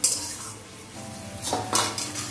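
Spice paste for a papaya and potato curry being stirred in a pan over a low flame, with a faint background and a few clinking scrapes of the spoon against the metal pan.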